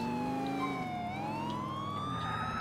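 In the video game GTA IV, an ambulance siren wails and sweeps up and down in pitch, loud and continuous, with an engine rumbling beneath it.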